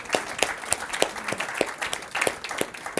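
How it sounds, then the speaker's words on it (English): Audience applause at a community talk, heard as a thin scattering of claps with distinct individual hand strikes in a loose rhythm, fairly quiet with no voices. "Let's give him a round of applause"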